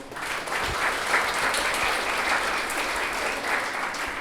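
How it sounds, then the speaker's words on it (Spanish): Audience at an international university seminar on solidarity economies breaks into sustained applause for a panelist, a thick continuous clapping texture at steady loudness with no voices over it. "Un aplauso,"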